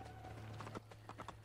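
Horse hooves clip-clop in Assassin's Creed: Brotherhood, a steady rhythmic series of fairly close hoofbeats over a low game hum, with a faint tonal drone underneath.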